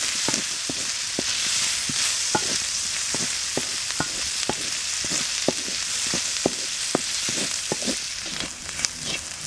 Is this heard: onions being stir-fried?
yes